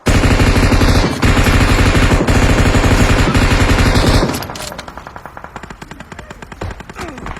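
Rapid automatic gunfire in the mobile battle game PUBG Mobile, loud and sustained bursts of dense shots for about four seconds, then quieter, sparser rattling shots continuing afterward with no talk.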